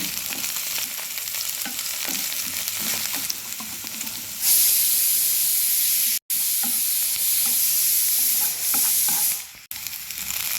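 Crushed garlic and finely chopped onion frying in hot coconut oil in a pan, a loud continuous sizzle that surges brighter midway with brief breaks, no voices.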